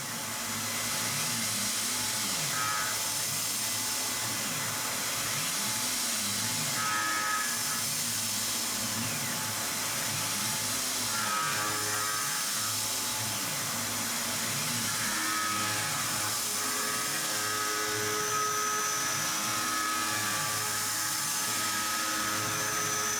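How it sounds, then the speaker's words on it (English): A milling machine cutting a contour on a swivel joint part, a continuous loud motor whine and cutting hiss with a slow cyclic pulsing rhythm, unbroken for the whole stretch with no talk. "It's just a contour with the milling machine."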